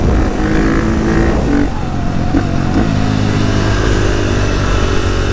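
KTM 450 supermoto single-cylinder engine fitted with an Akrapovic exhaust, loud and close, a sustained throbbing drone with shifting pitch as the rider works the throttle.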